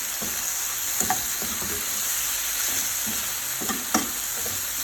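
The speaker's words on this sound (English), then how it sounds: "At least let's saute this for a minute or two." Food sautéing in a pan gives a constant bright sizzle, with occasional soft clinks and scrapes of stirring close by.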